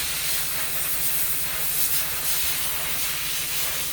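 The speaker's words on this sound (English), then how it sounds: "I'm going to just put my fingers in the bottom and then just start steaming the yarn" A skein of yarn is steamed with a continuous, loud, even hiss of steam that holds steady throughout, with a faint low hum underneath.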